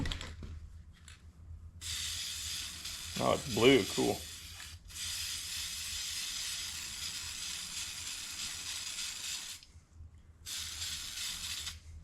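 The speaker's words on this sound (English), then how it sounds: "I'm gonna spray some oil on this." Hissing spray bursts of oil onto the air filter of a 1985 Honda Fourtrax 250 ATV repeat steadily, with a brief voice and some handling noise in between, close by.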